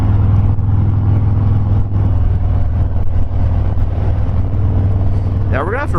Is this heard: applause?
no